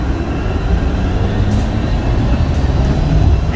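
Steady loud rumble and rolling hum of an airport terminal people-mover train at DFW pulling away, continuous and close with no talking.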